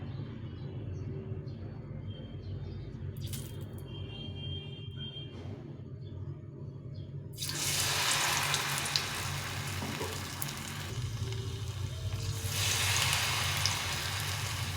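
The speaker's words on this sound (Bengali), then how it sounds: "মিডিয়াম টু লো লো হিটে এটা একটু ভাজতে হবে" Cauliflower pakoras in batter frying in oil over medium-low heat, a steady low bubbling that swells into a loud hissing sizzle partway through as pieces drop in, close and without talk.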